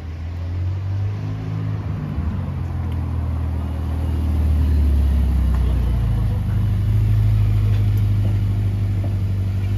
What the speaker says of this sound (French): Là, c'est la F8 qui part.